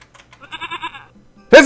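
A goat bleats in the video game Die Reise ins All, a quavering, wavering cry of several pulses, followed by a brief loud burst at the end.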